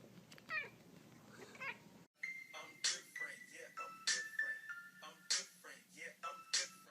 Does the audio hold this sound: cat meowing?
yes